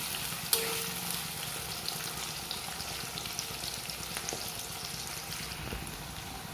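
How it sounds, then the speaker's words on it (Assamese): Onions frying in oil in a pan for a simple local chicken curry, a steady dense sizzle running throughout with a sharp clink near the start and occasional stirring scrapes, close and fairly loud, no talk. "পিঁয়াজখিনি মই ইয়াত ৰংচোৱা হোৱালৈকে ফ্ৰাই কৰিম।"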